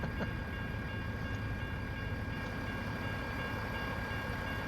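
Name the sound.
trains passing in the video game American Truck Simulator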